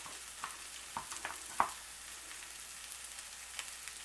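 Asparagus cooks in a pan over medium-low heat with a soft, faint sizzle, punctuated by a few light taps and stirring clicks, and no voices.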